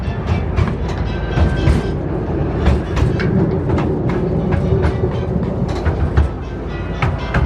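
A small Thomas Land ride train at Drayton Manor runs along its track, steady rumbling with repeated clickety-clack of wheels over rail joints, close and continuous.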